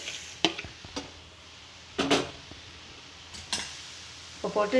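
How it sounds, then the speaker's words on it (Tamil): Onions sautéing in a pan get potatoes stirred in, with a soft background sizzle broken by a few sharp clinks and scrapes of a utensil against the pan, while a voice speaks briefly. "போட்டு எல்லாம் கிளறி இதை நம்ம வதக்கிட்டு இருக்கிற வெங்காயத்தில் போட்டுடலாம்"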